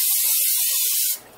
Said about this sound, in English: spray cooking oil onto the other surface so that that is even more non-stick than it was before.